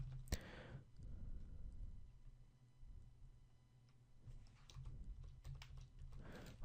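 Light, quick keystrokes on a computer keyboard while writing code, irregular bursts of close, soft clicking with brief pauses between them.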